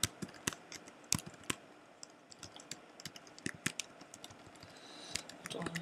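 Fingers tap on a computer keyboard at close range in irregular bursts of crisp clicks and key thumps, with short pauses between the runs of keystrokes.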